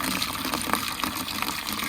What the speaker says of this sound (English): Fill in our biggest bin full of water.